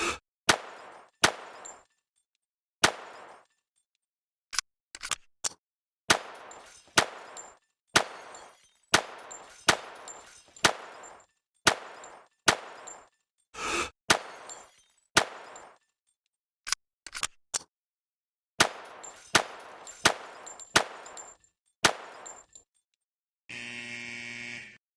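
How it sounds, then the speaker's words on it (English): Gunfire from a low-recoil weapon in World of Shooting hits bottle targets, a long run of crisp single shots in uneven bursts with brief silences, ending in a steady buzzing tone. "As you can see, we did not manage to shoot all the bottles in a limited time."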